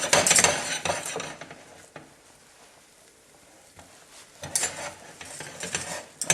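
A spoon stirs and scrapes thick choux pastry dough in a saucepan over heat in short bursts, separated by a quieter stretch with faint sizzling.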